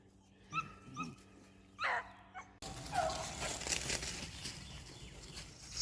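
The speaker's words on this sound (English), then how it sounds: "trying to get them in there barking after some rabbit sign with these dogs" Rabbit-hunting dogs let out a few scattered barks and yips in the opening seconds, followed by a rougher, windy stretch with fainter yelps in the background.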